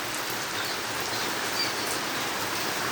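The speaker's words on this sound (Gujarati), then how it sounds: "આજે જોરદાર વરસાદ ચડીને આવ્યો છે" Heavy monsoon rain pours down in a village in a dense, constant hiss, loud and close, with no voices.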